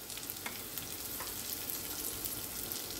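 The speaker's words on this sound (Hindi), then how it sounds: "इसे हम हल्का सा फ्राई कर लेंगे।" Chopped vegetables lightly frying in a pan for lemon coriander soup, a dense continuous sizzle with occasional faint clicks of stirring, steady and fairly close.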